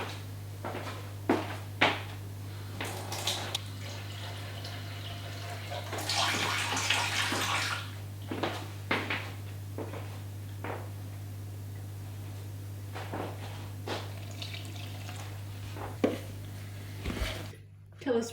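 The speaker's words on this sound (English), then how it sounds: "Cup of warm water." Warm water poured into a cup in a home kitchen, heard as brief splashy bursts amid clattering, rustling and handling noises, with a steady low hum running underneath and people talking in places.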